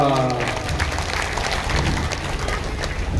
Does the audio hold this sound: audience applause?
yes